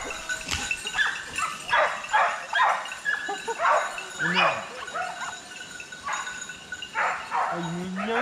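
A pack of hunting dogs chases a wild boar during a driven hunt, barking, yipping and whimpering in repeated overlapping bursts at moderate distance, with someone speaking over them.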